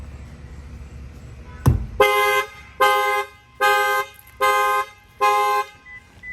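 Factory alarm on a Lexus IS 350 set off by its shock sensor: a thump against a tire, then five loud, evenly spaced horn-like chirps close by, with no talking.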